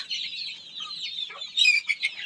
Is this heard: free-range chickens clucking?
yes